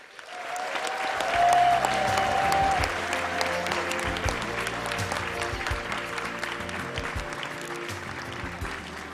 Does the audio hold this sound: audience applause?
yes